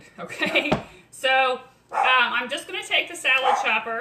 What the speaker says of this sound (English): Sorry, that's my dog. She's probably barking at a fly.